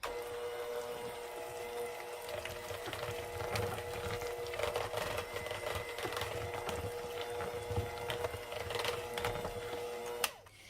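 An electric hand mixer beating cheesecake batter in a bowl, a steady close whirring hum with scraping texture that runs unbroken for about ten seconds before cutting off, no voices.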